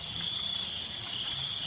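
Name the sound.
crickets chirping sound effect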